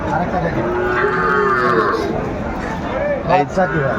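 Sahiwal cattle at a livestock market in Noakhali, lowing in long drawn moos over steady crowd chatter, with a louder close call near the end.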